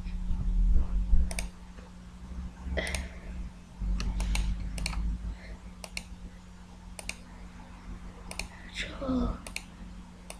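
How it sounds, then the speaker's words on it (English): Sharp mouse clicks, single and in quick bursts, during a Minecraft session with inventory shift-clicking, close and fairly loud over a low steady hum, with a brief spoken word. "Sorry if my mouse is a bit loud"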